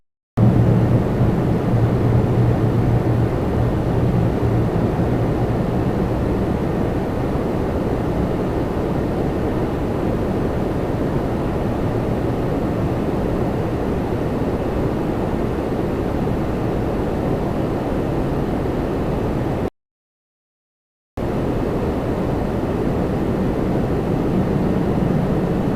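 An Air Canada jet landing on runway 24 right at Toronto Pearson, a loud, steady broadband roar of engines and airflow sustained throughout with a brief drop-out near the end, no voices.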